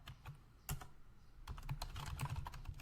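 Rapid, uneven bursts of keystrokes on a computer keyboard, close and fairly quiet, with a brief pause before a denser run of typing; no voices.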